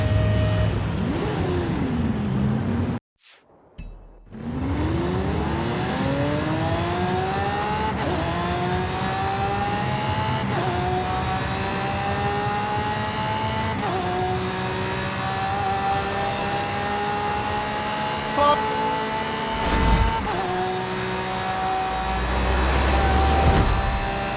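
A Lamborghini in Forza Horizon 5, driven with a Thrustmaster T248 wheel, its engine revving and climbing through repeated gear shifts, loud and continuous after a short silent gap near the start.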